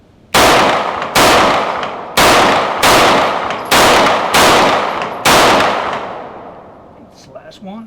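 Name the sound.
Boberg XR9S 9mm bullpup pistol firing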